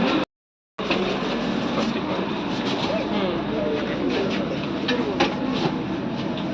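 A Vande Bharat train runs along the rails with a steady rolling rumble and faint rhythmic clatter inside the carriage. The sound drops out briefly near the start, and muffled voices mix in.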